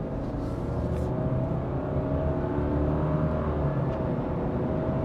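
A 2026 Subaru Crosstrek Wilderness with a 2.5 engine pulls away at partial throttle, giving a steady, smooth drone that rises gently, heard from inside the cabin over road noise.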